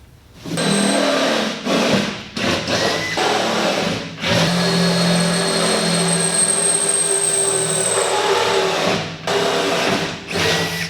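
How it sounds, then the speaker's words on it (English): A small pneumatic straight jigsaw with a fine-tooth blade cuts an aluminum hatch opening on an airboat build, giving a loud, steady buzzing rasp in long runs broken by short pauses. "I've got a little pneumatic jigsaw, straight in jigsaw, or recip saw"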